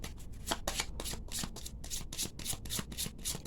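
A deck of tarot cards is shuffled in a quick, steady series of soft riffling bursts, close and quiet, with no talking.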